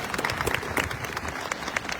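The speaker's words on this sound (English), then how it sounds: "Let's clap for the sunshine." Crowd applause at a gathering in a house of prayer, Washington DC: dense, steady clapping from many hands throughout, moderately loud and unbroken, with no clear speech over it.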